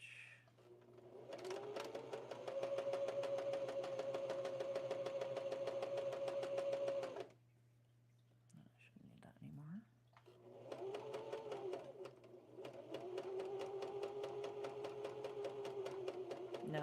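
Home sewing machine back-stitching a cloth doll, with a close, steady motor whir and needle clatter in two long runs separated by a short pause with light handling noise.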